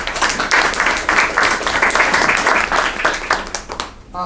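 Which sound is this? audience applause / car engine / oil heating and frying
audience applause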